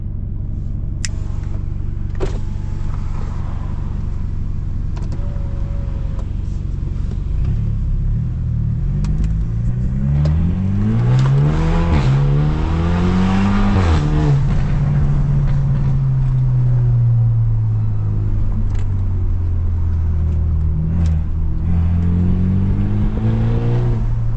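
A modified BMW F30 pulls hard through the gears, engine rising and falling in loud sweeping surges with rumbling gear changes and occasional pops, heard from inside the car.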